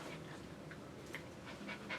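A Maltese dog panting during a grooming session, quick soft breaths repeating close by at a steady rhythm, fairly faint over a low room background.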